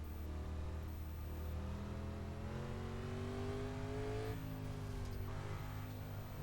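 Steady engine drone of NASCAR Legends race cars in the iRacing video game at North Wilkesboro, rising in pitch as they accelerate behind the pace car, then a brief dip and renewed climb; continuous and fairly loud.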